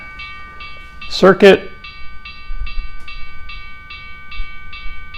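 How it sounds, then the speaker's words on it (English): An HO scale model train rolls through a model railroad crossing as the gates lift, with a steady electronic crossing-bell tone pulsing throughout, a short burst of speech partway in, and a faint low rumble of the passing train. "train goes by, and the gates come up"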